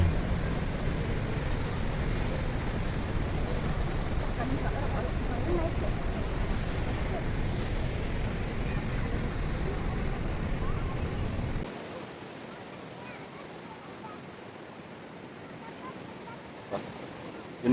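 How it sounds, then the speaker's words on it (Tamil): Water flowing over Athirappilly waterfall in Kerala, a dense steady roar that stays loud for most of the clip, then drops abruptly to a quieter, more distant rush. "புதுசாக கிரியேட் ஆன ஃபால்ஸில் தண்ணி ஃப்ளோ நல்லாவே இருக்குது"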